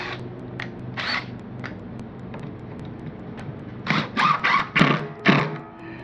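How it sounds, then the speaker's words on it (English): A screw gun drives screws down through wooden wine barrel staves, giving several short whirring bursts spaced apart, then a tight cluster of four or five loud bursts near the end. "I will go ahead and screw screws down into here on each stave"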